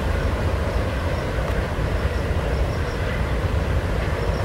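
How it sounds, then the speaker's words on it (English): A train rumbles steadily in the distance at Indiana Dunes, a low continuous roar of rolling wagons with no voices. "Zooming in real close on the train there."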